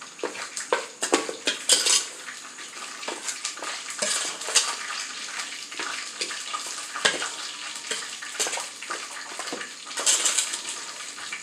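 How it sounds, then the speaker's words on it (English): Potatoes being mashed in a pot with mayonnaise and a little sugar, a masher clattering and scraping against the metal in irregular bursts, close and fairly loud, with no talking. "So I'm going to mash up now"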